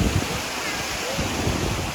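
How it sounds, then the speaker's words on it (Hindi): The Urmagada waterfall in Kandhamal district gives a continuous loud broadband rush of falling water that fills the whole short stretch, with a voice briefly audible under the roar. "देखो वाटरफॉलटा"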